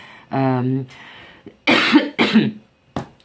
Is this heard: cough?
yes